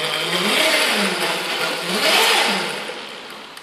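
A drifting electric scooter's motor whines loudly and close, its pitch sweeping up and down twice as it accelerates under a broad rushing noise that fades slightly at the end.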